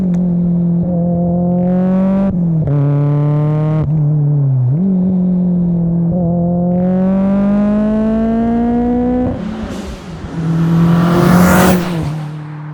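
A Mitsubishi Lancer Evo 8 engine climbs through repeated revs, each rising harmonic whine dropping off and building again toward about 4000 rpm, ending in a loud rushing burst of intake and exhaust noise, close up with no talking.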